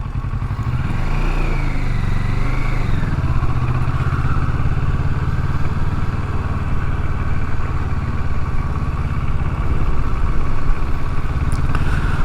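A motorcycle engine drones steadily and loudly throughout a ride through a residential subdivision in Schertz, Texas, with a brief rising and falling pitch near the start.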